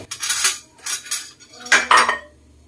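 A metal lid clatters and scrapes against a pot of coconut milk stew with tuna and pechay, several close clinks in uneven bursts, the last two the loudest.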